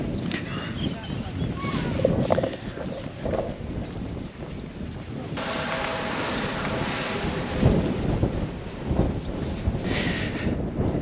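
Strong wind off the Scottish isles of Iona and Staffa buffets the microphone with steady roaring gusts, with a tour boat engine rumbling beneath and brief voices now and then.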